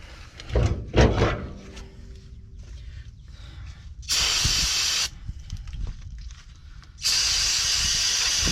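A can of brake cleaner hisses in two sharp bursts onto greasy trailer parts, between quieter handling clatter and rustling, with no talking.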